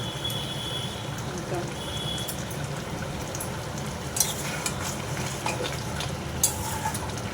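Gourd curry with green chillies and a splash of mustard oil sizzles steadily in a pan, a continuous close frying hiss with a few sharp spits and clinks near the end.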